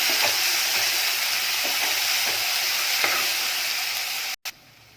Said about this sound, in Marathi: कांदा आहे तो थोडा वेळ परतून घ्यायचा